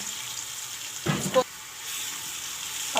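Garlic frying in oil in a pan for a potato and cauliflower curry, with a steady sizzle broken by a brief louder burst of crackle as it is added and stirred.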